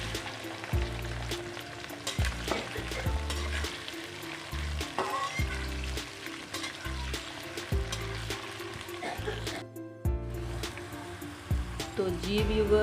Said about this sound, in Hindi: इसमें डाल देंगे हम अपनी भिंडी। इसको थोड़ा सा फ्राई करना है 1 मिनट के लिए